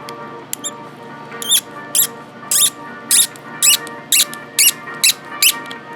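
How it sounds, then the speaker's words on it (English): 3D-printed PETG parts squeak in a regular rhythm, about ten sharp, high squeaks at roughly half-second intervals, close and loud over a faint steady hum. "its squeaky noise is the 3D printed parts"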